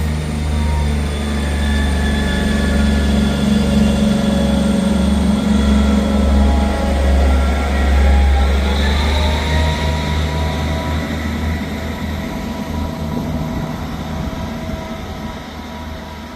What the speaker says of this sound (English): Departing out now is the 13:12 Scotrail service from Edinburgh Waverley to